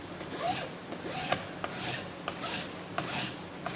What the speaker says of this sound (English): getting all the scratches out from the first file, and then finishing off with a draw file